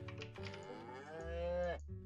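A cow in the farming game Harvest Life gives one drawn-out moo, rising and wavering before cutting off, close and clear over quiet surroundings.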